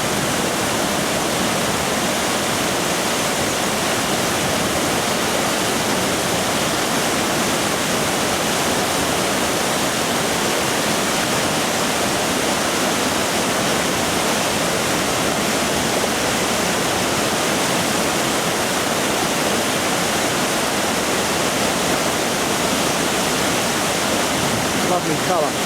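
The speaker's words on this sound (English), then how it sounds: "Look at the power of that water." Powerful rushing river water in March, near Henley, roars loud and steady through the whole stretch, a dense unbroken wash of noise with no pauses.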